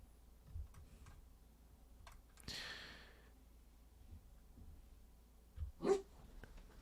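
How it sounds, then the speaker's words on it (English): Dog barking in the background of a home workspace, a few faint distant barks with a louder bark near the end over a quiet room. "Sorry, dog's barking."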